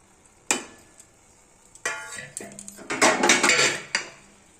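Ghee and garam masala stirred into a pressure-cooked dalia pulao, with a spoon scraping and clinking against the metal pot in short bursts, the loudest and busiest near the end.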